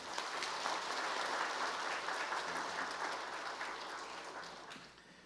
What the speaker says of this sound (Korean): 뜨겁게 감사의 박수 한번 하도록 하겠습니다